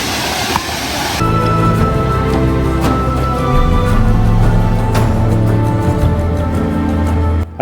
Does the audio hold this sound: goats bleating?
no